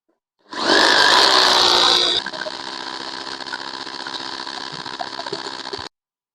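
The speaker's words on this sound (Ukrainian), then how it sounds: "І свердлимо." A rotary hammer drill whines loudly as it bites into a wall, then settles into a steadier, slightly quieter drone for several seconds before stopping abruptly.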